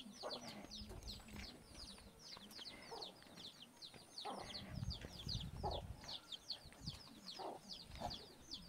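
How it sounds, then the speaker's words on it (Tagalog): Chickens clucking in a rural Filipino yard, a steady run of short repeated clucks from several birds, fairly close, with faint voices and background rustle beneath. "May manok po sila."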